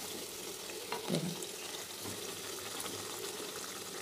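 Pea-stuffed kochuri deep-frying in oil, a soft steady bubbling sizzle throughout with a brief clunk near the start.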